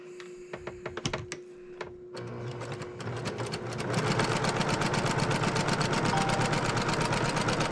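A sewing machine stitches down a quilt seam on a disappearing nine-patch quilt, starting with a few separate clicks and short bursts, then settling into a steady, loud, continuous mechanical whir heard alone up close.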